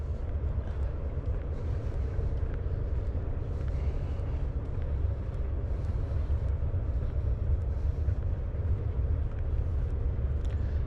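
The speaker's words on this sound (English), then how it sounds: "And that is a slow-moving train." A slow-moving freight train rolls past close to the Buckeye Trail, a steady, loud low rumble with no breaks and no talk over it.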